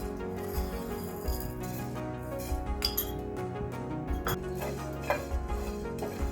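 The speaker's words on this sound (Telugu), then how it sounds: "ధనియాలు డ్రై రోస్ట్ చేసుకోవాలండి" Coriander seeds dry roasting in a pan on a stove, giving a steady stream of light clinks and rattles as the seeds shift against the metal, close and alone, with no voices.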